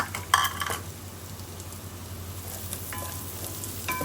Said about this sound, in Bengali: রসুনটা দিচ্ছি, হালকা ভাজা ভাজা